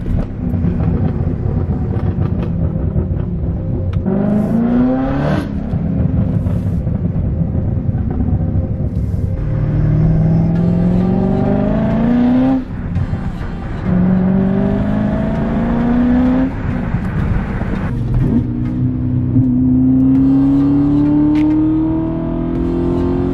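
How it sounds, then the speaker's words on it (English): BMW M3 Competition with a stage 2 tune, decat downpipe and loud burble tune, revving and accelerating repeatedly through the gears, with a loud, steady engine rumble and rising pitch sweeps throughout. "Your backfire as soon as you let off the gas."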